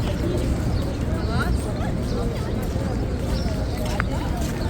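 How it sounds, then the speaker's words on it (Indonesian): Pigeons cooing and other birds calling in a busy open courtyard, soft coos and chirps mixed under a constant crowd murmur and nearby people talking. "Burung di sana nggak ada begini ya."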